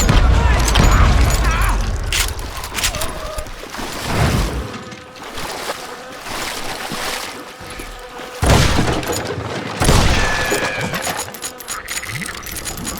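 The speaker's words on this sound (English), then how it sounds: "I wondered why my compatriots didn't come running when they heard the shots." Gunfire in the Western shooter Call of Juarez: Gunslinger, several sharp shots and booms with metallic clinks spaced across a noisy game scene, loud and close.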